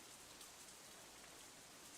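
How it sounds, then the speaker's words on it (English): Rain falls steadily in the video game Katawa Shoujo, a soft, even hiss of drops with no pauses or other sounds. "I feel the first drop of rain landing in the back of my hand"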